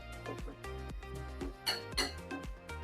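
Flour and baking powder are stirred in a bowl, with a utensil clinking and tapping against the bowl in irregular quiet strokes and a few brighter knocks, close and faint.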